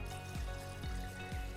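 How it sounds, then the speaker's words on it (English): Water pours into a Cosori gooseneck electric kettle in a faint, steady trickle with soft gurgling bubbles recurring about every half second. "Now let's try pouring in some water and put it to a boil."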